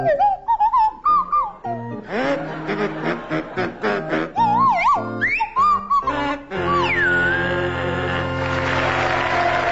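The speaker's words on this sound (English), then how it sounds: "it's to feature Willie Rushton on kazoo and Tim Brooke-Taylor on Swanee whistle" A Swanee whistle plays the carol Deck the Hall, its sliding pitches swooping up and down through the tune in quick phrases, ending on a long glide under a burst of studio audience applause and laughter.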